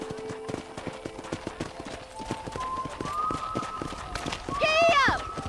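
Horse hooves in the Western video game Red Dead Redemption, a rapid rhythmic clip-clop of galloping that runs throughout, joined near the end by rising tonal sounds that could be music or a voice.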